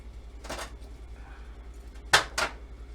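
A knife cuts a boiled egg in half, giving two soft taps on the board followed by two sharper clicks of the blade against the board.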